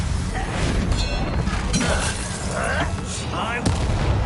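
A Bombarda blasting-spell explosion in Hogwarts Legacy, one of several booming cracks and shattering bursts amid constant combat noise and effects.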